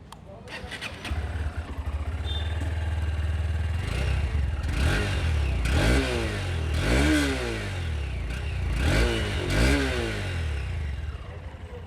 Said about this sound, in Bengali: তো এবার তোমাকে আবার আমি ইঞ্জিন সাউন্ডটা শোনাই, কেমন টাইপের লাগে সেটা শুনে না একবার।